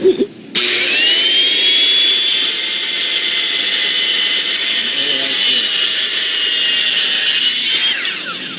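A power saw runs continuously with a loud, steady high-pitched whine for several seconds after a brief start, close by.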